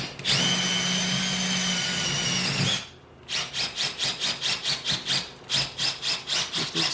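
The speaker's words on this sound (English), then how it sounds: "Just push through it and just drill it." A power drill fitted with a hole saw cuts up through a ceiling with insulation above, first as a long steady whine, then as a string of rhythmic pulsing bursts as the saw bites, loud and near.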